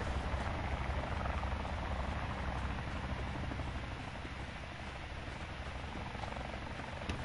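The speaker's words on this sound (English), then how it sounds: "Oh shit, a helicopter" Constant thudding rotor drone of a helicopter in Call of Duty Blackout, steady and moderately loud, with no talking.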